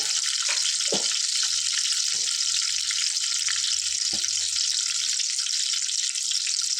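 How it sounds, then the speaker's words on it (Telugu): Steady, dense frying sizzle from a pan of food cooked with salt and a little turmeric for egg biryani, close and constant, with a few faint clinks or stirs and no talking. "కొద్దిగా పసుపు వేసుకొని ఫ్రై చేసుకుంటాం"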